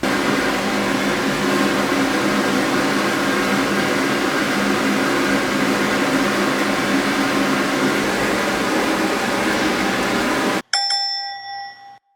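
A hair dryer blows in a steady, loud whoosh for about ten seconds while a dog is dried and brushed after a bath, then cuts off, followed by a brief electronic beeping.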